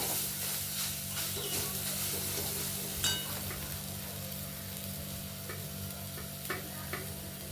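Spice masala roasts in hot oil for a Maharashtrian khar vangi eggplant dish, giving a steady close sizzle with occasional scraping stir strokes, no voices.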